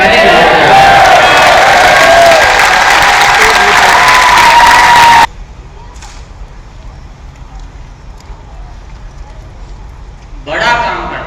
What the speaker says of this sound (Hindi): दोनों हाथ ऊपर करके ताली बजाते हैं।